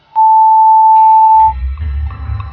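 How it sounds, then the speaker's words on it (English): A single steady voicemail beep in the adventure game Art of Murder, a clear sustained tone about a second and a half long, followed by low background noise. "Please leave a message after the beep."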